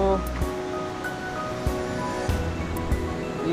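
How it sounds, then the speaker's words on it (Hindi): Stream water rushes steadily in the Tesa River area of Longding, Arunachal Pradesh, a constant near wash of flowing water with someone talking over it. "ये रहा नाला का पानी,"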